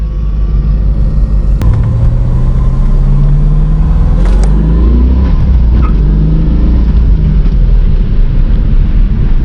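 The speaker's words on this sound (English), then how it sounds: "You literally hear the motor." A 1994 Corvette's engine hums and rumbles steadily from inside the car, with road noise and slight rises in pitch as it accelerates.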